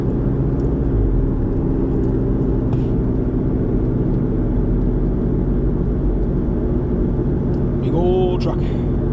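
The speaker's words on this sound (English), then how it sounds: "Big old truck." A big truck rolls along a snowy road in a steady, loud low rumble of engine and tires that fills the whole stretch, with a brief higher whine near the end.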